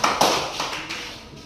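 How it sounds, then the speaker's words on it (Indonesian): A class claps for a student group after their presentation: scattered hand claps at an uneven pace, close and moderately loud, fading quickly over a second and a half. "Tepuk tangan untuk kelompok."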